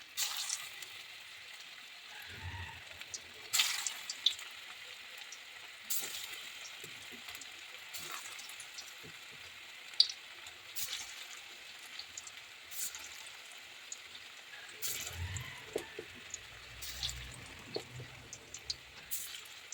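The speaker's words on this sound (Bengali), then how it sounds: "ভেজে নেব আমি সবগুলো নাড়ু" Cabbage kofta balls fry in hot oil in a kadai, giving a faint, steady sizzle with scattered small pops and crackles throughout, close but quiet, with no talk.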